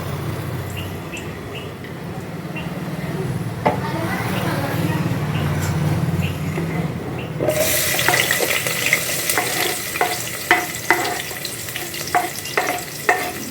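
Sliced onions hit hot oil in a pan for veg biryani, a loud steady sizzle with stirring clatters and scrapes of a spoon against the pan, following a quieter stretch with a person talking.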